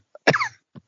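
One sharp, loud cough bursts out close to the microphone in a podcast studio, followed by a couple of small throaty coughs.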